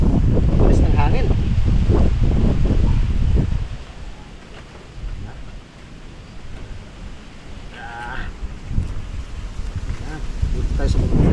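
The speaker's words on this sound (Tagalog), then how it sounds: "Bilis ng hangin." Strong wind gusts across an open farm field in a tomato-growing area, buffeting the microphone loudly at first and then settling into a steadier rushing, with a voice briefly heard.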